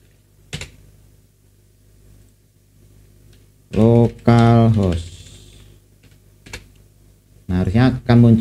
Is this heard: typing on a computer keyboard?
yes